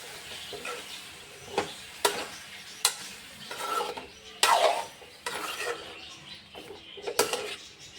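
Eggplant stir-fry stirred and mixed in a pan, with scattered scraping knocks of a spoon over a faint sizzle and no talk.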